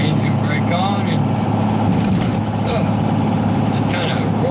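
A truck rolls downhill with its engine brake on, giving a loud steady drone with low rumble and rattling cab noise close up, with no clear talking over it.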